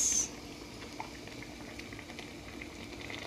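Fish curry simmering in a pot, a steady soft bubbling that runs evenly throughout, fairly faint and close, with a brief brighter hiss at the very start and no voices.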